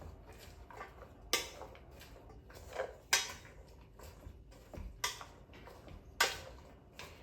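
A spoon mixes chicken coating ingredients in a bowl for oven-fried chicken, with sharp intermittent clinks and scrapes against the bowl, irregularly spaced and close, with no speech.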